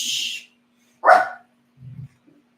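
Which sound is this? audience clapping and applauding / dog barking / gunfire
dog barking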